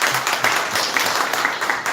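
An audience at a church accounting lecture breaks into steady applause for the lecturer, a dense wash of many hands clapping close by, with no talking over it.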